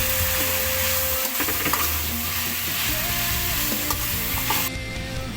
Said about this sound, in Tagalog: Lutuin na natin yung tapa.